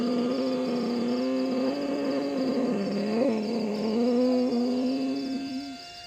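A human voice imitates a pigeon's cooing during ujjayi pranayama breathing, a close, loud, steady throaty hum with a slight waver, held for about six seconds before tapering off.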